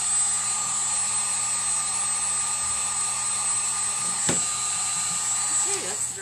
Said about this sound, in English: these heat guns are great